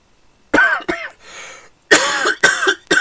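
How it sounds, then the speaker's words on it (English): Several loud, harsh coughs close to the mic, in two bursts separated by a short raspy breath. "My cough's starting to come back"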